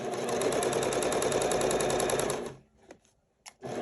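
Sewing machine running steadily as it stitches fabric all the way around a six-panel welding cap, a loud continuous rapid whir for about two and a half seconds before stopping, followed by a few faint clicks.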